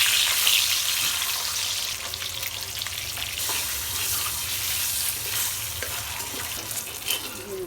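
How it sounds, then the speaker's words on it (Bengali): Eggs fry in hot oil in a kadai (wok) for mung dal, a steady loud close sizzle and crackle with bubbling spatter that continues throughout without talk. "ডিমগুলো দিয়ে দেব।"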